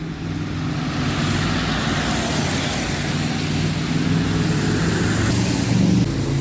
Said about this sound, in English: Most high streets of towns, cars tend to be very, very noisy